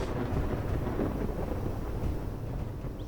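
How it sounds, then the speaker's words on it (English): Thunder from a lightning storm in the Space Engineers survival game rolls as a steady, dense, low rumble without pause for the whole stretch. "Lightning storm."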